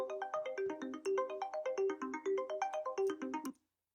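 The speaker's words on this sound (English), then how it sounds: "here is the first signature sound that you hear, which is the ARP sound" Synth arpeggio programmed in Logic Pro X for a track: a rapid, steady run of bright plucked notes cycling up and down in a repeating pattern, loud and alone, stopping abruptly near the end.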